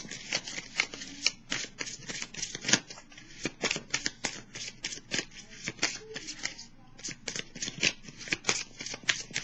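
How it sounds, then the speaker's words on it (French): Tarot cards are shuffled and handled continuously in a close, crisp flurry of riffling and flicking at a low level, with no one talking. "Je vais piger une carte rose."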